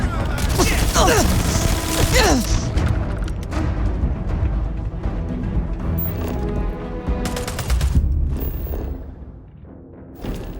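Bursts of gunfire in the sci-fi shooter Starfield, heavy rapid shots over loud game music and effects, trailing off into quieter mechanical sounds.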